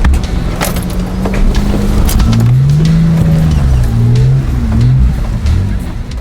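An off-road vehicle on mud tyres drives through mud. The engine revs loud and close, rising and falling in pitch over a constant rough rumble of wheels churning.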